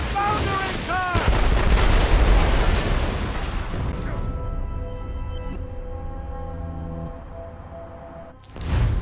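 Naval cannons boom in a sea battle in Assassin's Creed Rogue, heavy blasts up front giving way to a sustained rumble and droning tones, with shouted crew voices mixed in.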